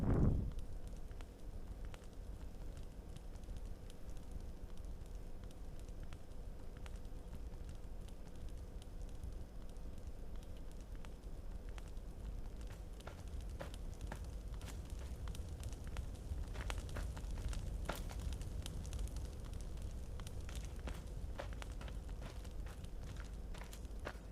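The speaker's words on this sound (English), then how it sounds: "Just listening to the crackle of your fire." A campfire in the survival video game The Forest crackles at night, a soft steady hiss with scattered small pops and snaps that grow a little busier later, faint and continuous with no voices.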